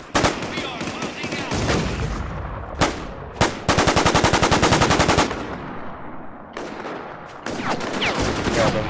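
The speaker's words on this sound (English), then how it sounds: "They're shooting rockets at my sandbags now." Heavy automatic gunfire and explosive bursts from a War Inc Battlezone match, with dense rapid-fire volleys and sharp isolated shots close and loud, pausing briefly between bursts.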